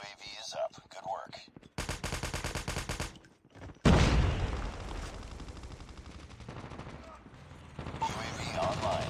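AK-47 gunfire in Call of Duty Mobile, loud sustained automatic bursts with brief pauses between them, alongside in-game announcer voice lines and other game effects.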